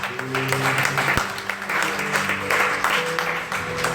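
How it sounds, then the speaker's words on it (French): A church congregation at a French-language evening prayer vigil applauds in a dense, continuous patter of clapping, with voices murmuring and a few shouts mixed in throughout. "Acclame alors."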